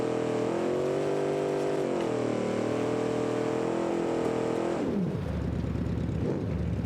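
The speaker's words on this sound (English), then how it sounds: "we're going to test this in 2-wheel drive on the dirt track" A car driving on a dirt track in 2-wheel drive revs with a loud, close engine whine that rises and falls, then drops off abruptly near the end into rougher, lower rumbling.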